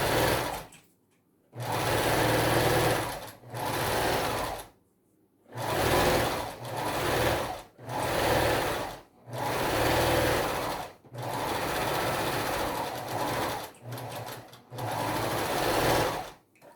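A domestic sewing machine stitches fabric for a small plush bear, working around the back of the head with repeated backstitching. It runs in short, steady whirring bursts separated by brief pauses, close and clear.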